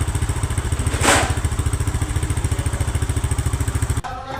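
A Benelli RFS150i motorcycle engine idles steadily up close, a fast even thumping pulse throughout, then cuts off abruptly near the end.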